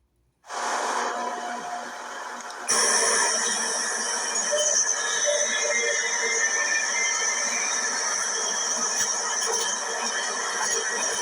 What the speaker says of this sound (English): There is a Bay Ridge 95th Street bound C train now arriving.